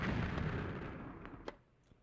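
Bombs exploding during a tennis match in a Nintendo 64 video game: a heavy blast rumble fading out, followed by a few sharp, quieter pops, heard alone.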